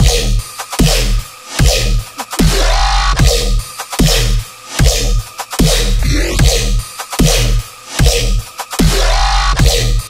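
A dense electronic bass-music remake, built with the Serum synth. Loud, heavily distorted synth stabs and thick low bass hit in a choppy, repeating rhythm with short gaps, without any talk.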